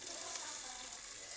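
Onions dropped into hot vegetable oil for a Nigerian yam goulash give a soft, steady, even sizzling hiss with no break.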